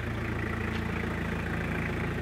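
A naturally aspirated 1998 Toyota HiAce van engine idles smoothly with a steady, even low rumble, close and continuous throughout, with no voices.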